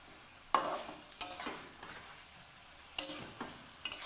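A spatula scrapes and stirs fried potatoes and bora in a hot pan, with several distinct scraping strokes over a soft sizzle of frying, close up.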